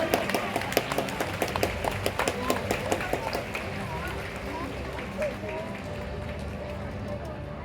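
Enthusiastic crowd applause, many hands clapping in a dense burst that gradually thins and fades out.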